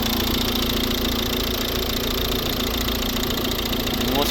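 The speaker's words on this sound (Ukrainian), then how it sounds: "робота двигуна" A 2012 Volvo V60 1.6 D2 diesel engine idles close by with a steady, loud knocking rumble that stays even throughout.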